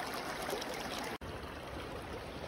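The Salmon River runs strong with spring snowmelt in April, a steady rushing, burbling flow heard from the bank without pause, apart from one momentary dropout.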